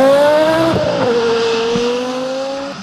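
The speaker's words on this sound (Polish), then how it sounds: "Także cały czas walimy hamulce ostro." A car brakes hard in an emergency stop from 50 km/h on a Łódź test course, its engine and tyres sliding down in pitch as it slows, loud and near, with no talk.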